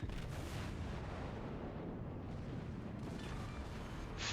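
Main guns of the battleship Montana in World of Warships firing, a heavy booming salvo followed by a long rumbling roar that stays loud and dense throughout.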